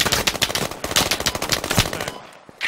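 Rapid automatic gunfire in the military shooter Squad on Kohat Toi River Valley, a dense run of loud close bursts that stops, then one more shot after a short gap.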